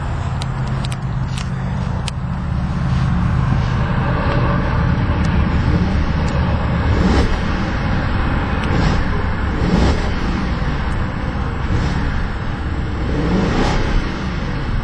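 The 4.2-liter V8 of a 2012 Audi A8-L runs steadily with a dense, continuous engine roar, swelling gently in a few slow rises as it is revved, close and loud with no talk.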